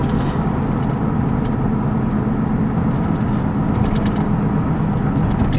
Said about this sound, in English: Looks like we'll have to drive it for a minute.